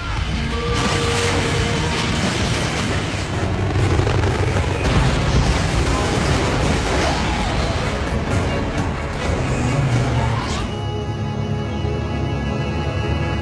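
A warhead detonating in a film scene: a sustained, loud rumbling blast with deep booming low end and crackling debris that rolls on for about ten seconds before dropping away abruptly.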